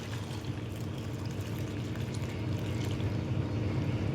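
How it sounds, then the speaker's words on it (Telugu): Water from boiled potatoes draining through a strainer into a bowl below, a steady, fairly quiet rushing pour that runs evenly throughout with no voices. "ఇలా స్ట్రైనర్లు వేసేసుకుంటే వాటర్ మొత్తం కిందకి వెళ్ళిపోతాయి."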